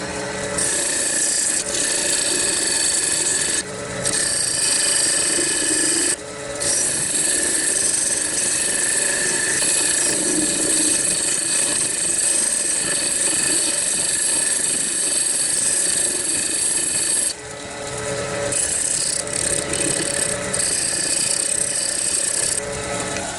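Wood spinning on a lathe while a tool hollows out a small witches cauldron, a continuous loud rasping whir with a steady motor hum, broken by two brief pauses.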